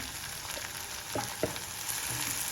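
Sprouts and green peas fry with chili powder in a pan, giving a continuous close sizzle with a few brief scrapes of a spoon stirring through it.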